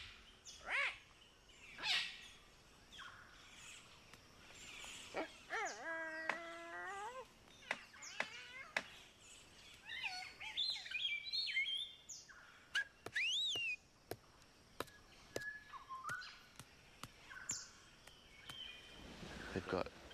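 Palm cockatoos calling in rainforest, scattered whistles and rising squawks, faint and spaced out with sharp clicks and pauses between, set against quiet forest background.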